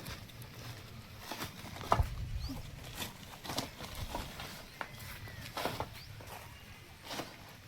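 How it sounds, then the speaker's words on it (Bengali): Rain beginning to fall over a rural dirt road, a steady soft patter of drops with scattered sharper taps, moderately near and fairly quiet throughout. "বলতে বলতে বৃষ্টি নেমে গেল।"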